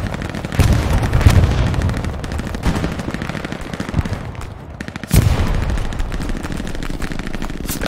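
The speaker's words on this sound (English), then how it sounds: "MG on the other side of the hedge" Machine gun fire in a World War-style multiplayer video game battle, dense rattling bursts with explosions and distant gunfire throughout, a heavy impact partway through, and faint voices talking underneath.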